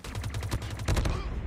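Rapid gunfire in the mobile shooter Call of Duty Mobile: a fast string of loud, punchy shots with a brief gap before a heavier final burst.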